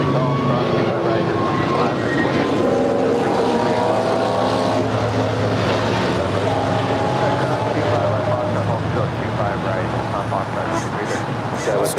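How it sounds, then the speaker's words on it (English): Heavy trucks rumble past at LAX airport, a steady loud broadband roar of engines and tyres lasting throughout, with aircraft noise blended underneath. "Those trucks were louder than the plane."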